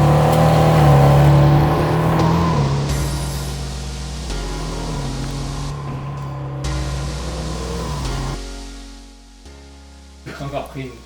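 A Porsche 911 3.2 engine, heard from a miniature model, starts and revs with a loud steady drone that shifts pitch in stages before cutting out, while someone talks over it.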